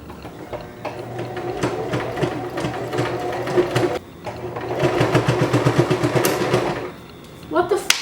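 A sewing machine runs in steady bursts of rapid stitching, pausing around the four-second mark and near the end, during a clothing upcycle where the thread keeps breaking; a voice speaks over part of it.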